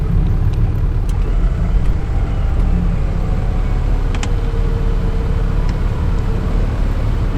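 A 4WD stuck in deep snow revs its engine as it tries to pull out, giving a loud, steady low rumble with broadband road-like noise throughout and no clear speech.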